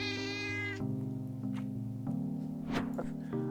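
Several cats meow at a beach resort, their long harmonic cries loud and continuous at first, then overlapping calls follow against steady background hum, with no talking.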